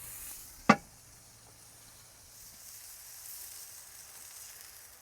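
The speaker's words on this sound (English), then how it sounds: "I'm gonna stick this on the griddle portion where there was some good bacon grease and jalapeno stuff and cheese." Food sizzling on a campsite griddle in leftover bacon grease with jalapeno and cheese beside a lake: one sharp knock, then a faint, steady hiss that continues to the end without talking.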